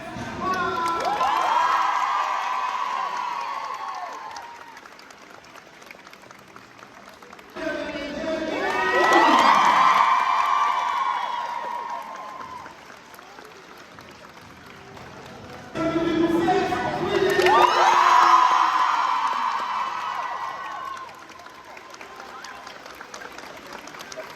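A large crowd at a romance book festival cheers, screams and applauds as authors enter, in three big surging waves, with loud shouting peaks and calmer murmuring between them.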